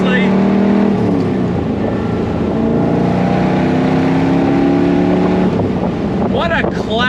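A 1966 Chevrolet Corvette C2 Stingray engine drones steadily from inside the cabin while driving, a loud sustained rumble that shifts pitch near the end as it changes gear.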